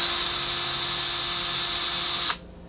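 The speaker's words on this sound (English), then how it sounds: "we're going to take a real small drill bit, about an 1/8 inch drill bit, and we're going to drill." Small 1/8 inch drill bit spinning into a ported aluminum Mopar 340 Thermoquad intake manifold, a steady high-pitched electric whine held for about two seconds before cutting off abruptly.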